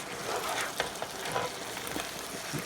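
Onions and asparagus sizzle in a pan with chicken breast in a garlic onion marinade as they are flipped, a steady crackling hiss broken by a few brief clatters of the turning, close and moderately loud with no talk.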